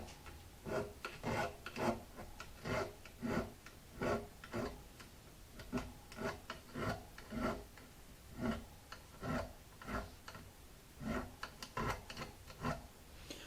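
Guitar frets being filed and finished on an HD 28, a steady rhythm of quiet rasping strokes repeating about once a second, close and alone without talk.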